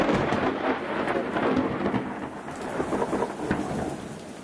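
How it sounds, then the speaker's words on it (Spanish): Thunder from an electrical storm rumbles continuously through heavy, steady rain, with no voices over the dense wash of sound. "Ineter dice que también hay tormentas eléctricas"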